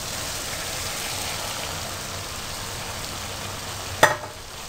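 Okra and potatoes frying with chickpeas in a pan, a steady soft sizzle throughout with one sharp clink of a utensil near the end.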